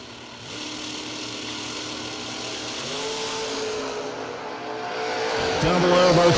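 A Corvette Roadster and a Mustang rev at a drag strip, their engines building from a steady rumble into rising, louder revs near the end, with an announcer talking over them.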